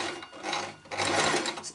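A sewing machine stitches close to the edge of fabric for a drawstring PE bag, a steady near mechanical whirr that runs the whole time, dipping briefly in the middle before picking up again.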